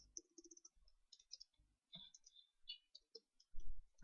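Typing on a new computer keyboard, close and quiet: irregular runs of crisp key clicks with short pauses and a heavier thump or two near the end.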